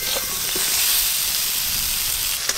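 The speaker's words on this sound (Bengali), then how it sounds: "পটল খুব ভালো করে ভাজা ভাজা হয়ে গেছে," Pointed gourd (potol) fries in hot oil, a steady close hiss and sizzle with a faint tap near the end.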